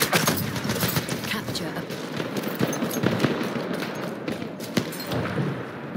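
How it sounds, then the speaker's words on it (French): Enemy machine gun in the Battlefield 1 video game fires in a dense, sustained rattle of rapid shots with scattered louder blasts, mixed with battlefield noise and faint voices. "Mitrailleuse ennemie en vue!"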